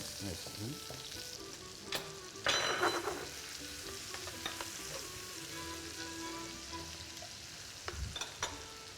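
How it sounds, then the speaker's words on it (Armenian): Onions fry in lamb fat left in a pan, a steady close sizzle with crackling bursts and a few clinks of a utensil stirring, no voices. "յուղը չենք թափում եւ հենց իր յուղի մեջ տապակում ենք սոխը"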